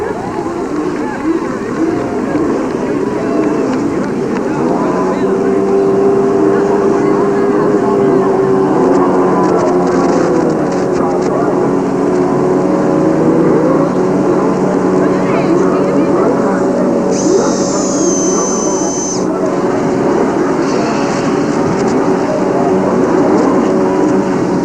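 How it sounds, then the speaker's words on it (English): Multiple CART open-wheel race car engines at Road America, Elkhart Lake, Wisconsin, in 1990, droning loudly and continuously as they fire up together, with a steady mechanical roar throughout. "Gentlemen, start your engines."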